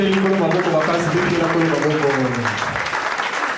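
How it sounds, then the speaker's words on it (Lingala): A church congregation applauds the Lord with loud, sustained clapping, while a voice speaks or sings over it. "Acclamez très fort les Seigneurs."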